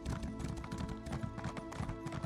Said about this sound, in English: You like my new horse? I just got it.